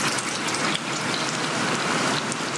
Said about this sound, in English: it is absolutely pouring rain now